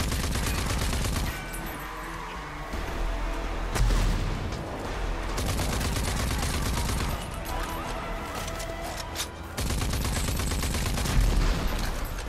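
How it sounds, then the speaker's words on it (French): Rapid gunfire and explosions from the video game Rage 2 on PS4 come in dense, sustained bursts with heavy booms, loud and continuous. "Alors les explosions sont assez impressionnantes"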